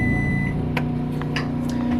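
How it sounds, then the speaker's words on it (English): A few short electronic beeps from a microwave oven inside a 2022 Winnebago Minnie Winnie 25B RV, close by, over a steady low hum with the generator running. "You just heard the microwave beep"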